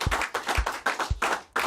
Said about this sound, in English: Can we give a big shout out and a big round of applause?